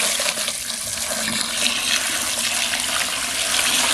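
Water pours steadily into a bucket used for macerating a wolf skull, a close, continuous rushing splash with no talking.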